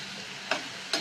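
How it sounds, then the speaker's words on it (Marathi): Spices sizzling as they sauté in hot oil for a restaurant-style veg pulao, a brief soft frying hiss with two quick stirring scrapes. "हे मसाले चांगले आपल्याला परतून घ्यायचे."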